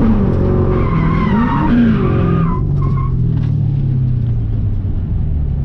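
A car drifting at a drift event in second gear, tires squealing loudly in long wavering screeches over a steady heavy engine rumble, close and continuous with no talking.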